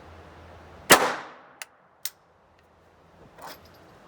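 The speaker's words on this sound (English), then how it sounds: "First round fired" An Intratec Tec-22 .22 LR pistol fires a single sharp, loud shot, followed by a couple of quick metallic clicks and a faint rattle, with no voices.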